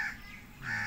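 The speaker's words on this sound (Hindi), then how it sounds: "दो कौवे आए हुए हैं कमरे के ऊपर बैठे हुए हैं" A pair of crows perched on top of a room caw in short, fairly close bursts, one at the start and another near the end, over faint outdoor background noise.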